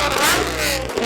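A Lamborghini supercar engine roars loudly as it revs past up close, its pitch sweeping upward and then falling away.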